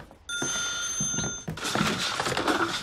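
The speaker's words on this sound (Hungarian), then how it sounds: "Vegye már fel azt a telefont." A telephone bell rings indoors in loud electronic trills, pausing briefly before a second burst that becomes mixed with clattering and handling noise as it is picked up.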